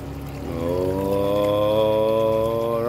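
Water pours steadily to refill an indoor pond in a reptile shop, a continuous close splashing stream whose tone rises as the level climbs, with no talking.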